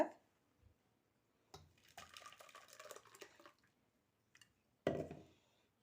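Ground tomato pulp mixed with water is strained to collect the juice, giving a few wet squishing and pouring bursts separated by quiet pauses.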